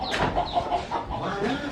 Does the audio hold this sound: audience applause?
no